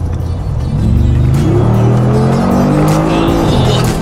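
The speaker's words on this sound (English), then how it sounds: "let's hear the power of this car" A 2019 Mercedes G Wagon engine revs loudly and close, its pitch rising and falling through several sustained swells over a steady low rumble, with no talk over it.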